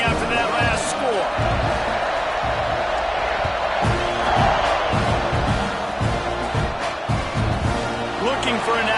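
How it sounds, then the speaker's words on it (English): Dense football stadium crowd buzzing and cheering after a score at an Arizona game, a loud continuous roar with whoops and shouts, as a commentator talks over it. "this crowd is buzzing after that last score"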